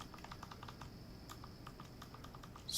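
Soft, rapid keyboard clicks tap out a steady run of keystrokes close by, with light background hiss and no talking.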